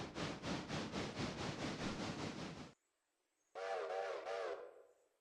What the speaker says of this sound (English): Number 3 is working the whistle.